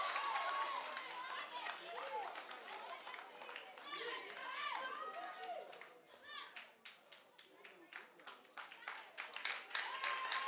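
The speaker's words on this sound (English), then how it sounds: "Let's clap it for Gomwa." An audience at a national girls' speech and debate championship clapping for a speaker, a lively ragged round of applause of many hands, with crowd chatter and voices mixed in.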